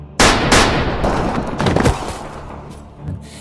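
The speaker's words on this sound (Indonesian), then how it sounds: "Tiba-tiba Lazarus mengeluarkan pistol dan menembak si Harlan." A pistol shot in an action film about a cartel attacking a retired gangster farmer, a sudden loud crack followed by more sharp bangs and a rumbling tail in the film soundtrack.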